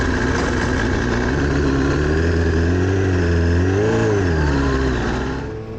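A Suzuki SRAD race motorcycle engine fires up and revs hard nearby, its loud pitch swooping up and down in several blips before cutting off at the end.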